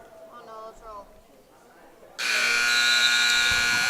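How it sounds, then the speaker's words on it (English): Loud, sustained electronic buzzer sounds to end the first period at a high-school wrestling match against Frederick, cutting in abruptly after a commentator's voice and holding steady to the end. "And the buzzer will sound."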